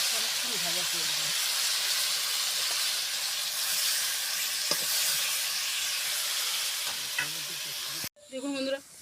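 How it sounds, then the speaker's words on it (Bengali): Hyacinth beans and eggplant fry in hot oil with a loud, continuous hiss and sizzle close up, while a voice speaks briefly under the frying and again near the end. "চলে এলে পর সিম বেগুনটাকে ভেজে নেব"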